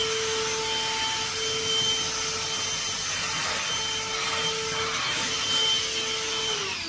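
A Black+Decker PV1420 handheld vacuum cleaner runs continuously, sucking up debris off surfaces. Its steady whine holds at a moderate level close by, with some brief rattling as bits are drawn in.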